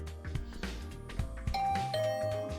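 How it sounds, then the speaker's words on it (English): A game doorbell in The Hundred Line chimes with ringing tones over a steady background music bed, the bright ding rising clearly in the second half. "someone's ringing on my doorbell"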